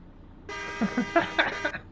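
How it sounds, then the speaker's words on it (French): Bus horn in Euro Truck Simulator 2, a bright sustained honk lasting about a second with a few pulsing swells, loud and close, with a voice briefly overlapping. "Petit coup de klaxon."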